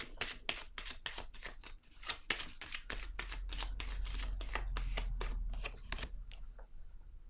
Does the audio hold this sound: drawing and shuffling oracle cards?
yes